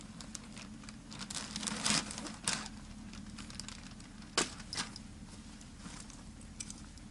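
A plastic package holding a tactical military backpack is handled and opened, giving quiet crinkling rustles with a few sharp louder crackles and tears scattered through the stretch, close and faint.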